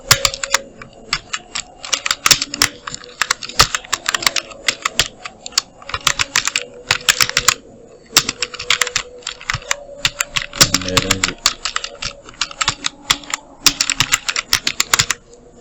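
Rapid clicking of a computer keyboard being typed on, bursts of keystrokes broken by short pauses, close and clear with no talking.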